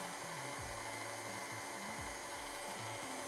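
An electric mixer whirs through cupcake batter in a bowl, a constant motor drone that holds near and steady while its pitch shifts and wavers as the beaters work, with no talking.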